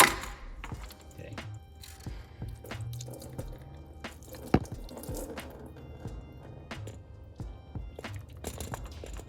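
Coolant drains from a 2016 Audi Q5 2.0T during a water pump replacement, irregular close drips and small splashes falling into liquid, quiet, with one sharper knock near the middle.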